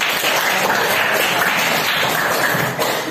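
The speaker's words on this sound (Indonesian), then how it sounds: "tepuk tangan untuk Dimas" A classroom of students applauds a classmate named Dimas with loud, close, steady clapping that fills the room for a few seconds, with no talking.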